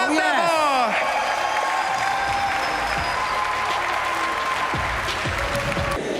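A crowd at a skateboarding competition final claps and cheers continuously and loudly, with dense applause filling the whole stretch after a brief spoken introduction at the start.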